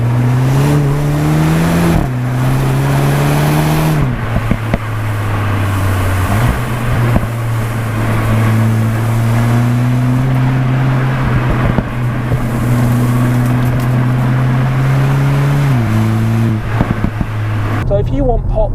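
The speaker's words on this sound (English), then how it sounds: "That's what a CLUBSPORT S sounds like." A 2021 Mk8 VW Golf GTI Clubsport S engine in Sport mode is revved repeatedly, loud droning rises and drops with crackling exhaust pops between throttle blips, heard close up while a voice talks over it.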